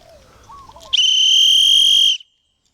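A single sharp, shrill blast from an Acme whistle lasts about a second, close and loud, preceded by faint rustling.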